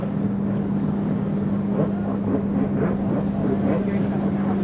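A personal watercraft engine drones with a steady, sustained hum at an outdoor 4th of July waterfront event, with wind buffeting the microphone and a busy background.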